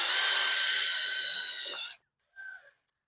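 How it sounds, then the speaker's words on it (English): A handheld power drill drives rods during an inground pool liner installation with steps, giving a loud, close whine for about two seconds, then a short second burst after a pause. "Grab my drill."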